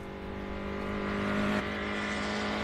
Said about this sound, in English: Big V8 in there